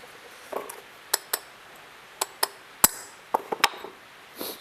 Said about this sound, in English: Now you're just going to hammer it slowly all the way around.